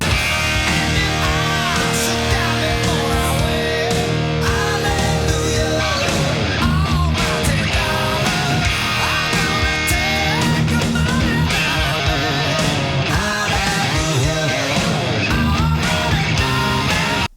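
Electric guitar plays the second verse, dense and continuous with sustained, bright chordal tones and busy rhythmic picking throughout, loud and alone with no voices.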